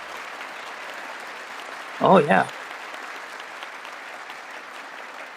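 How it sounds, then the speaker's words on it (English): A State of the Union audience breaks into a short, loud burst of clapping. It lasts about half a second over a steady background hiss, and a voice speaks briefly nearby. "The assholes clapping like lemmings."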